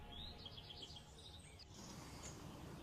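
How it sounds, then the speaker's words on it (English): A juvenile male blackcap warbler calls with faint, high chirps from a little distance, a quick run of notes followed by a few scattered ones over steady broadband background noise. "Black-cap warbler. It's a juvenile male."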